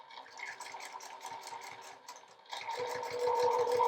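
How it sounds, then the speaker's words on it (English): A sewing machine runs a long basting stitch around a fabric edge with a fast, steady mechanical whir and needle patter, close by, picking up speed and loudness partway through. "I'm going to keep my stitch length up and I'm going to just base stitch around here."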